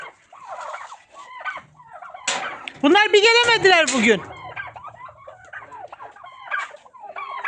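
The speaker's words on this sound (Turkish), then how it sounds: "Yine kendi tavuklarım benim sesime geliyor." Backyard chickens come running to their owner's call, clucking and chattering close by, with a loud burst of gobbling midway. Someone speaks briefly over the flock.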